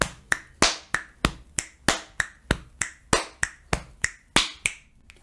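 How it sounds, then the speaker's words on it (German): Body percussion at double tempo, a rapid run of crisp finger snaps mixed with claps and chest slaps, some seventeen close hits in a brisk, even pulse, no voices. "das können wir aber auch doppelt so schnell machen"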